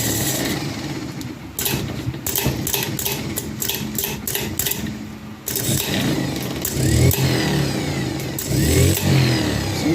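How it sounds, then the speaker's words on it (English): Delco 30MT starter motor run on the bench, a loud mechanical whir that starts in quick stuttering bursts, cuts out, then spins up again and runs steadily, close and alone. "We're going to see how well this plunger kicks out the bendix and see how fast that motor runs."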